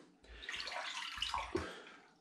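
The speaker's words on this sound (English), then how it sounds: "And then we get some water down into the skin." Water from a tap runs into a natural sausage skin being prepared for traditional black pudding, a steady close splashing flow with a few soft bumps of handling and no talk.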